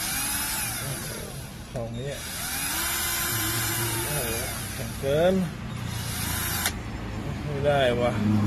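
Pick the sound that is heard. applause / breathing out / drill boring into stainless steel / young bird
drill boring into stainless steel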